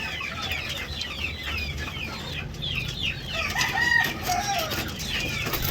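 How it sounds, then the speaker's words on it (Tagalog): Native chickens cluck steadily nearby while a rooster crows out amid the flock, farmyard noise continuous throughout. "ito native to na manok"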